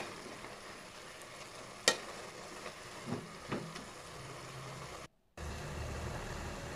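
Wilted garden cress greens are stirred with garlic and chilli in a pan, giving a soft, low sizzle under scattered scrapes and clicks of the utensil, with a brief dropout near the end.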